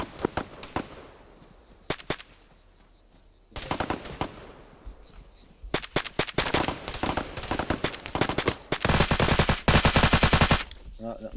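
Video game gunfire in a team firefight in a valley sounds loud and close, starting with scattered single shots and building into dense, rapid automatic bursts near the end.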